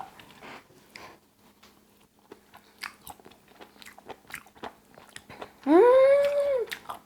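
Close, moist chewing of beef tripe (makchang) with soft crunches and smacks at an uneven pace, ending in a brief hummed, appreciative vocal sound.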